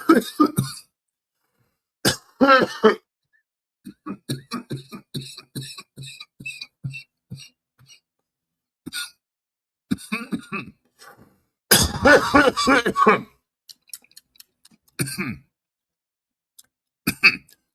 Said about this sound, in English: The stream will probably be a lot of me coughing because, weed it makes me cough